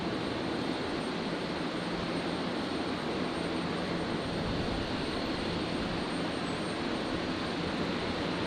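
Airbus A350-900 arriving from Singapore at Brisbane Airport at night, a steady broadband jet roar holding loud and constant throughout with no voices.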